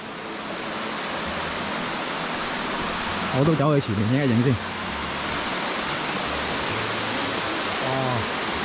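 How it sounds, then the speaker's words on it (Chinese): A waterfall on Tai Shing Stream, a rocky hiking gorge in Hong Kong, gives off a steady, broad rush of water that fills the whole scene. Someone speaks briefly over the constant roar. "源源不绝嘅瀑布就系呢啲啦。"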